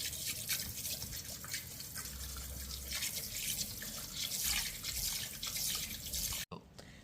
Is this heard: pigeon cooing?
no